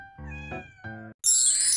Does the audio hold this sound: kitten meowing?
yes